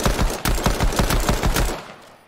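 Gold pistol in Fortnite fired in a rapid burst, about a dozen sharp, loud shots in quick even succession, then abruptly stopping into silence.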